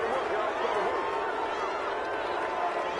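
A stadium crowd at an American football game reacts to a penalty call, a steady, dense roar of booing and shouting that fills the space without a break.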